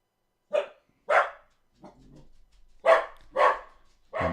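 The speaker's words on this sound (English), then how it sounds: "My dog hears something." An indoor dog barking in short bursts, five or six loud single barks spaced about half a second apart with a brief low growl between, no talking.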